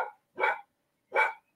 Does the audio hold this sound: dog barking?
yes